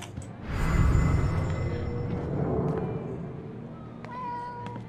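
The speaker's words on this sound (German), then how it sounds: "Oh, die Katze." A cat meows a few times in the video game Life is Strange: True Colors, fairly close and clear, with faint game ambience and small chimes around it.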